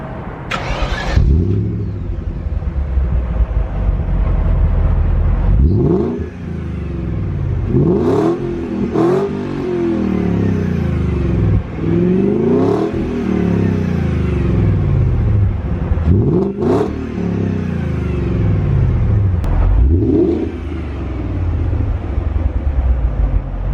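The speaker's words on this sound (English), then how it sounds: "I really hope this camera is good enough to pick up the sound of the exhaust" A BMW E39 540i with its V8 exhaust is revved repeatedly, loud and close, with roughly five sharp rises and falls in engine pitch over a steady idle rumble, and no one speaking.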